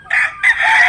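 A rooster crows loudly and close by in two drawn-out bursts with a brief dip between them, no talking over it.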